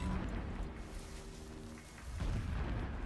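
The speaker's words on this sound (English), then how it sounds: "Explosions in the distance." Distant explosions rumble low and heavy in the Horizon Zero Dawn video game, a muffled booming roll that swells at the start and again near the end.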